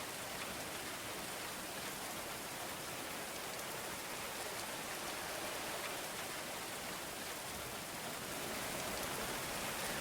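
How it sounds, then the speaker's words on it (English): Rain falls steadily in the game Going Medieval, a constant hiss of drops with no pauses, fairly faint and unchanging from start to end, with no voices over it. "This rain really gets me."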